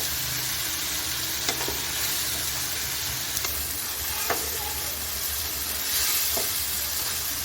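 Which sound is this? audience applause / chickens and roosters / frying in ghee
frying in ghee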